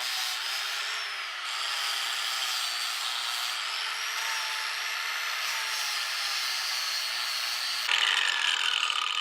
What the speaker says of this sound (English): So at this point, it's time to grind it.